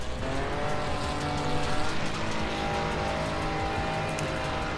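Ferrari 296 race car engine screaming at Barcelona in a racing video game, a steady loud high-revving drone with shifting pitch and tyre noise, continuous with no talk.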